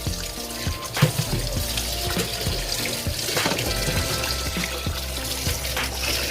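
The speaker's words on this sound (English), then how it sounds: "So I'll just go ahead and run cold water through it and get it out." Cold tap water runs steadily into a sink while vegetables are washed, a continuous splashing rush with small clatters and knocks underneath.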